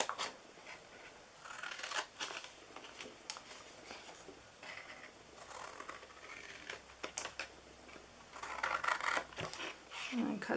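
Paper being cut with scissors for a handmade fall box craft, a series of close, crisp snips and short slicing strokes in uneven bursts, with soft handling rustles between cuts.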